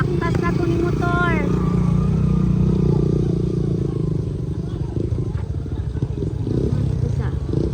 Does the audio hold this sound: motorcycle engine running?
yes